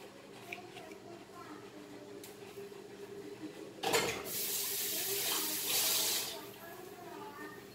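Water pours from a tap into a pot while making Goan caldeen curry, a sudden bright splashing gush after quiet kitchen sounds, running for a couple of seconds before easing off.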